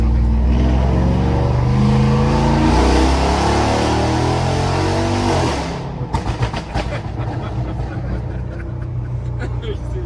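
A high-powered car of around 1000 horsepower runs to warm up, a loud, close, throbbing engine rumble that later turns rougher and more staccato, with people talking faintly under it.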